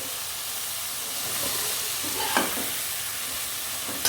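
Dal is stirred in a pan with turmeric and salt, giving a soft, steady scraping and faint sizzle, with a brief louder stir midway.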